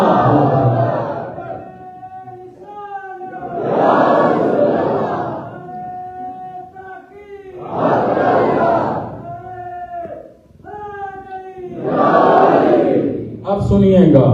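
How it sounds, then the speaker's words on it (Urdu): A large crowd at a Mehfil e Milad religious gathering chants slogans in loud, rhythmic bursts, answering a leader's calls in repeated waves about every four seconds. "ذرا ایک دفعہ اللہ کے شیروں کی طرح نعرے لگائیں گے"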